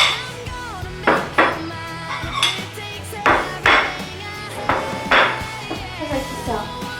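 Clean dishes and cutlery are cleared away nearby, with repeated loud clinks and clatters of plates and silverware in an irregular rhythm.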